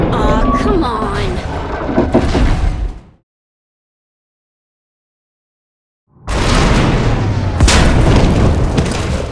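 Heavy booming explosions in Star Wars: The Old Republic as a tunnel collapses, a loud blast rumbling for a few seconds, then a sudden silence before a second roaring burst of blasts and debris.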